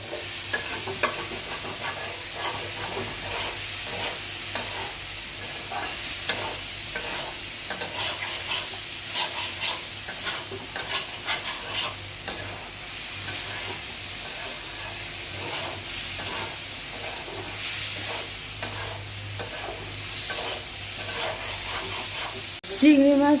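Prawns sautéed in a pan with ginger and dry chili powder, a steady hiss of frying with repeated scraping and stirring strokes throughout, close and continuous, with a brief louder clatter at the end.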